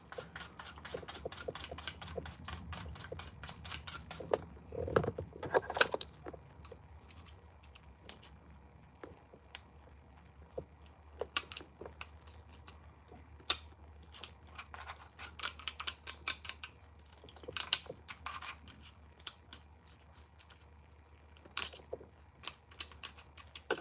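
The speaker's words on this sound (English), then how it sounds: "I'm just cleaning out the head of the screws here." Small scraping and ticking taps from cleaning out the heads of screws during a chainsaw inspection, a steady run of close, dry clicks and scratches over a low hum.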